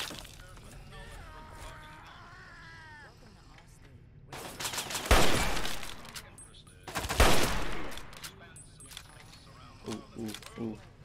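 Fallout 3 gunfire fills the scene with two loud, heavy bursts of shots a couple of seconds apart, followed by a short rattle of quicker reports, mixed with quieter game sounds between them.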